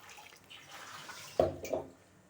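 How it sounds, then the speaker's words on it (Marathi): Ground masala water poured into a Malvani-style surmai fish curry in a clay pot: a short, soft splash and gurgle near the middle, with faint background hiss before it. "हे वाटप केलेलं पाणी टाकणार आहे"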